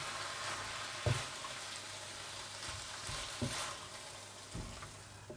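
Beef curry marinade sizzling in a hot pan, a continuous close frying hiss broken by a few soft scraping knocks as it is stirred around.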